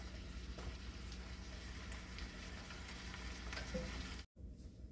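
Picadillo sizzles steadily in a pan, a continuous frying hiss with faint crackles. No one talks, and the sound cuts out briefly near the end.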